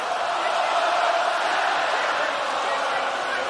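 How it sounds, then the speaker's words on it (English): Boxing arena crowd roaring in steady support of Savannah Marshall during her bout with Claressa Shields, a dense continuous wall of cheering and shouting that fills the space at an even level throughout. "Yeah, the crowd have got really behind her."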